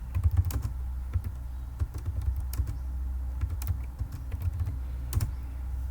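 Typing on a computer keyboard while working on a C++ program for 2D transformations of a triangle, with irregular clusters of close, crisp key clicks over a low steady hum.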